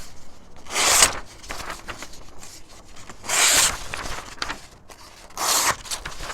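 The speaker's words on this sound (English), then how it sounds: "I just wanted to show you real quick paper cutting to show you how sharp it is" A Cold Steel Wild West Bowie knife slices through paper in three separate swift rasping cuts, each a brief crisp scrape spaced apart by quiet pauses.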